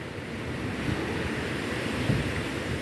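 Rough, bouncy open sea during a fishing trip for parrot fish, a constant roar of wind and surf with waves slapping nearby, loud and unbroken, with no talking.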